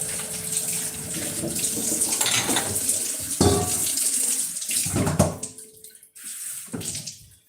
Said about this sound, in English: let's wash up, finish washing up, and then get into it.